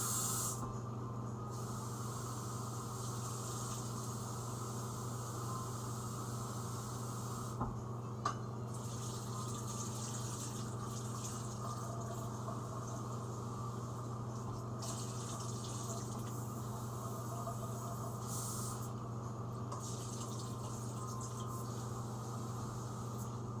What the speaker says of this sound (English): I kind of want to give them a little rinse